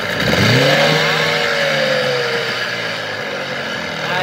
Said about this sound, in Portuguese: cadê o barulho do motor agora?